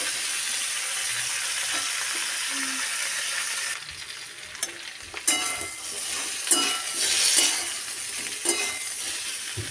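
Vegetables including potato, cauliflower and green tomato fry in a pan. A strong sizzle drops off partway through, then uneven scrapes and clinks of stirring follow over a quieter hiss.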